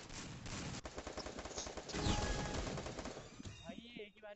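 Rapid automatic gunfire in the Free Fire battle royale game, a dense stream of shots filling most of the stretch, with a burst of game sound and voices near the end.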